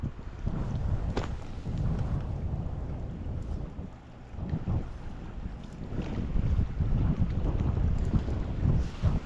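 Cold wind blowing off a lake buffets the microphone in loud, gusting rushes that swell and ease, with faint lapping water beneath.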